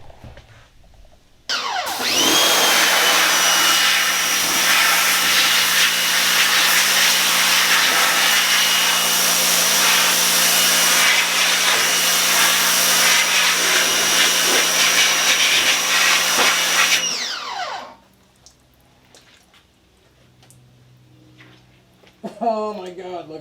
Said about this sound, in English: I'll grab the pressure washer and do a full-on spray down